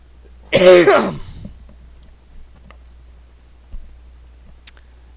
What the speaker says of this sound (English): I hate this stupid cough.